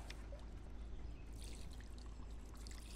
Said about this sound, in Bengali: তো বন্ধুরা একটু বালতিতে জল দিয়ে দেবো